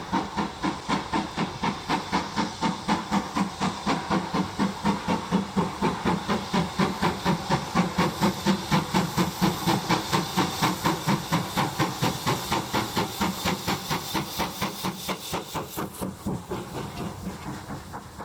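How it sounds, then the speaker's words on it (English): A steam locomotive passes directly below, its rhythmic chuffing exhaust beating steadily and loudly with hissing steam throughout, the beats slowing slightly and fading toward the end. "I like to stand directly over where the engine passes, and the sound is recorded by the camera without any accessories."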